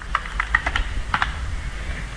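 Someone types on a computer keyboard nearby, with a few quick bursts of crisp key clicks separated by short pauses, against a quiet room hum.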